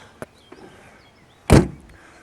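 A Rover P6 3500S car door shuts with a single solid, close clunk after a couple of faint clicks, in an otherwise quiet setting.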